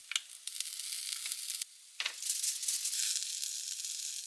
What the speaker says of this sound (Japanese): かぼちゃは早く火が通るよう薄く小さく切りました。 焼きます。